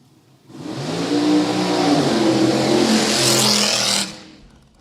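A drag racing car does a fire burnout at a drag racing meet, its engine roaring loud and sustained for about three and a half seconds before cutting off abruptly, heard alone.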